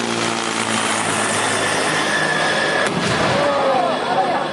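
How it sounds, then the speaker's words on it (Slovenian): Military helicopter giving cover during a special forces training exercise at a military history park, a loud continuous rotor and engine roar close by, with a brief sharp knock near the middle. "obenem pa jim lokalno zavarovanje zagotavlja helikopter"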